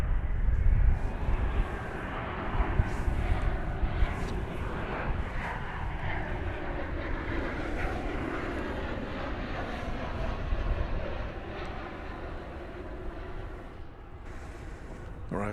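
An American Airlines jet arriving from Guadalajara, Mexico lands at Dallas Fort Worth airport with a steady loud broadband roar of engines and wind rushing, slowly fading, heard from an outdoor spotting spot.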